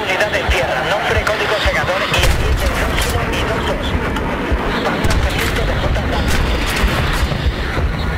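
Explosions and gunfire from the Battlefield 3 video game rumble in a dense, continuous barrage of booming blasts and rapid shots, loud throughout, with a voice speaking over parts of the combat.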